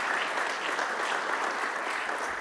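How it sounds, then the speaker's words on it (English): Audience applause at a meeting, many hands clapping in a steady, even burst throughout. "Let's give that a round of applause for them putting that together."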